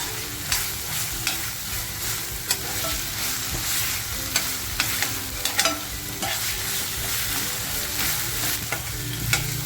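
Green masala paste sautéing with onions in a pan for a Maharashtrian chicken curry, a steady broadband sizzle with frequent scraping spatula stirs, close and continuous with no voices.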